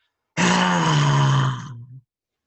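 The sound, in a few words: person imitating a roar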